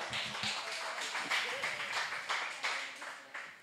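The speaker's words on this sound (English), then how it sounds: "One more time for Damon, please give him a round of applause" Audience at an open mic night in a coffeehouse applauding performer Damon, a sustained wash of many hands clapping at moderate loudness, with a few sharper nearby claps standing out.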